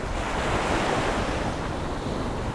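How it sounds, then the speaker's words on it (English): Strong coastal wind roars steadily across the microphone while cycling, a dense, unbroken blast of rushing air that swamps everything else, with no voices. "The only downside of this part of the ride was the really strong wind."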